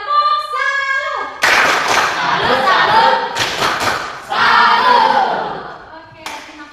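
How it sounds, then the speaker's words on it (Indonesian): A school class in an Indonesian classroom performs the rhythmic 'tepuk salut' clapping chant, with a teacher's voice leading into loud group chanting punctuated by bursts of sharp, synchronized hand claps. "Oke, jadi kita ucapkan tepuk salut."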